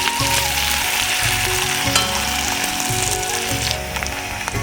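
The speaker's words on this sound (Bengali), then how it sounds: "পেঁয়াজটা খুব সুন্দর করে ভাজা ভাজা করে নেব" Onions fry in a pan with a loud, continuous sizzle and crackle, close up, over a low background hum.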